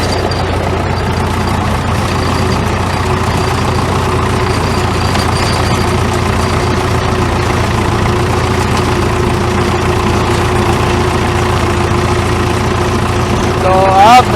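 A 990 tractor engine running steadily on a cold February day while splitting timber, a loud, constant low rumbling idle that holds through the whole stretch, with a brief rise in pitch at the very end.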